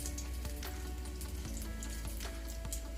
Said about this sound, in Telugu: మీడియం ఫ్లేమ్ మీద పెట్టి వేయించుకోవాలి